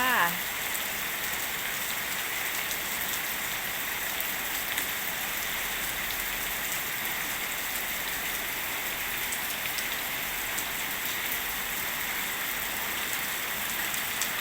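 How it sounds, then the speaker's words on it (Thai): Heavy rain pours down outdoors beside a house, a steady dense hiss of drops hitting surfaces that continues without a break, close and constant with no talk. "ฝนตกลินค่ะ"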